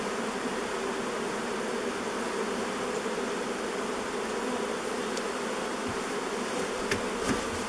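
Bees swarming around an old beehive opened after more than thirty years, a dense, steady buzzing hum close by, with a few light knocks near the end.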